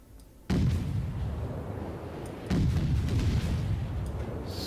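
Heavy naval guns fire in World of Warships. Two deep booming salvos land about two seconds apart, each leaving a long rumbling tail that stays loud throughout.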